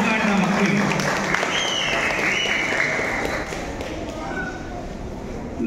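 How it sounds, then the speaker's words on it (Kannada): Loud, sustained audience applause for children who have just performed a play, a dense wash of clapping mixed with crowd voices that eases slightly toward the end. "ಅವ್ರು ಒಂದ್ಸಲ ಜೋರು ಚಪ್ಪಾಳೆ ಮಾಡಿ ನಮ್ಮ ಮಕ್ಕಳಿಗೆ,"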